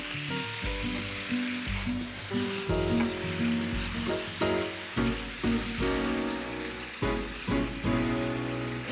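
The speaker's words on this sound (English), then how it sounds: "Let's pick it up to a high temperature. This is the apple cider vinegar." Apple cider vinegar hisses and sizzles loudly as it hits chicken in a hot pan on high heat for a sweet and sour vinegar sauce, a dense crackling with bursts of stirring and utensil scrapes throughout.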